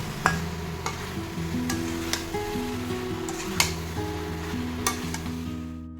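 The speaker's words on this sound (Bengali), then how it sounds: "ভেজে রাখা আলু ও এঁচোড়ের সঙ্গে মশলাটি দিয়ে আবারও 2 মিনিট মতো কষিয়ে নিব।" Fried potato and jackfruit cooking with spice paste in a pan, a steady low sizzle with occasional sharp scrapes and clinks of a spatula, close by, with a faint background melody and no talking.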